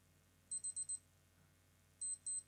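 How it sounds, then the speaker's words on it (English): Thin, high electronic beeps from a Casio digital watch alarm: a quick burst of four, a pause, then two slightly longer beeps, with nothing else around them. "Okay, so that one's the alarm."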